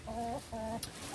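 Newly acquired backyard laying hens cluck softly, giving two drawn-out calls and a brief sharp note at close range, with no talking.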